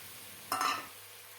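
Ginger and tomato paste hits onion paste in a hot pan for a cauliflower roast, giving a short, close burst of sizzle that fades quickly against a quiet background hum.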